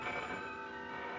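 An old 1946-era telephone bell rings steadily and brightly throughout, with a constant metallic trill and no voices.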